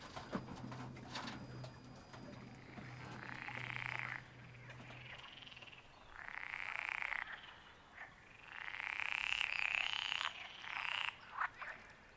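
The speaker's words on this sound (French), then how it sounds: "Le crapaud" A toad croaks in several long, rasping trills separated by short pauses, moderately close against a quiet outdoor background.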